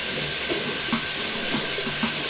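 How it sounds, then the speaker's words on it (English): Steady hissing wash of running water with a few soft knocks and splashes as asparagus is rinsed underneath, continuous throughout. "Give the asparagus a good old rinse through."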